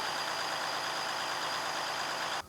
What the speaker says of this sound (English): Let's crank this truck up and get it into a high idle via cruise if possible.